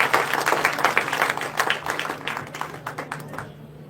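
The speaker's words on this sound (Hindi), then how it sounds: "बिना संकोच जमकर ताली बजाकर हमें बच्चों का अभिनंदन करना" A crowd claps for a children's performance at a public gathering in Berasia: dense, steady applause at moderate volume that gradually thins and fades toward the end.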